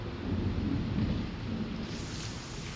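Steady rain pours down with a low rolling rumble of thunder underneath, continuous and moderately loud.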